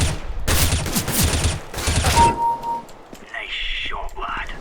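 In the shooter CS:GO, loud, close gunfire rings out as a few sharp, ringing bursts in the first couple of seconds, then fades into quieter game sounds with a person talking.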